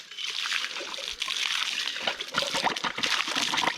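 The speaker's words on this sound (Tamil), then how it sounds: "இதெல்லாம் வந்து மலையிலேருந்து தானாக வர்ற தண்ணி" Mountain spring water trickles and splashes steadily, a close, continuous gurgling flow with small irregular splatters.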